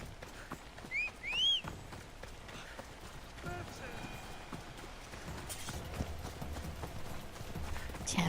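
A horse gallops in Assassin's Creed Odyssey, rapid clip-clop hoofbeats running under a voice, with a brief whistle-like call near the start and game ambience behind.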